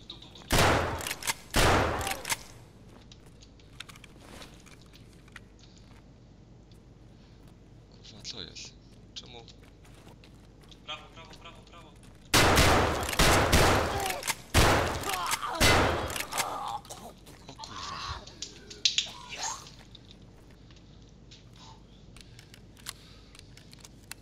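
Bursts of gunfire in the video game Escape from Tarkov, with two loud volleys near the start and a dense cluster around the middle, mixed with scattered clicks and players talking.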